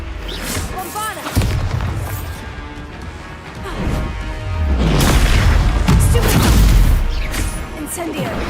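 Spell explosions from the Bombarda curse in Hogwarts Legacy come as repeated heavy booming crashes and impacts with rumbling low ends, loud and close, mixed with other combat effects.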